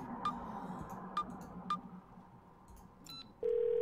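Dialing a telephone in the video game Twelve Minutes: three evenly spaced keypad beeps, then a few softer tones, ending in a steady loud ringing tone over a quiet room hum.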